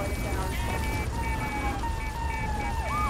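Police car sirens wail in GTA 3 Definitive Edition, several overlapping tones gliding and warbling over a noisy backdrop of engines and gunfire-like clatter, fairly distant and steady.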